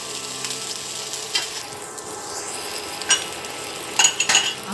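Crushed ginger hits a hot pan of pumpkin curry spices and is stirred, a continuous sizzle broken by a few sharp spoon clinks and scrapes against the metal.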